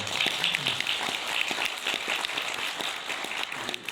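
Faint, scattered clapping from a conference audience in the evening, a light patter of many hands at a distance, steady throughout.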